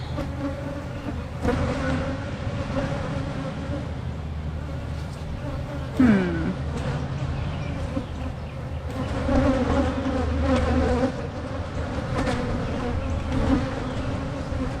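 Honey bees swarm around an opened hive, a continuous close buzzing drone rising and falling as insects fly near, with a brief sharp buzz passing close by partway through.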